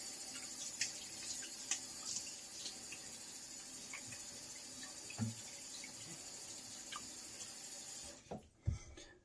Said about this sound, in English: rinse off with the cold water